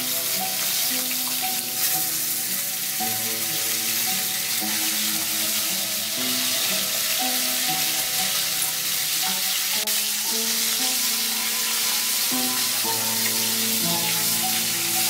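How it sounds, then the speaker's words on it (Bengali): Hilsa fish head frying in a wok of mustard oil, a steady loud sizzle running unbroken and alone for the whole stretch, with no voices. "আমি মাছটা প্রথমে ভেজে নিচ্ছি,"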